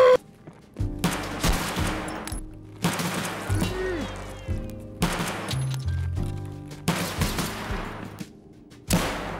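Pistol shots in a first-person shooter game ring out loudly in spaced bursts, each a sharp crack followed by a short decay. The pattern repeats about every second, with brief gaps between the volleys.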